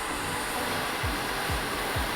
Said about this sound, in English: You can always turn the concentrator to be how you need it on your hair dryer.